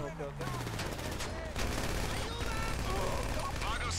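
Rapid gunfire crackles through a GTA V prison break heist, with dense automatic shots under steady voices of players talking over the shooting.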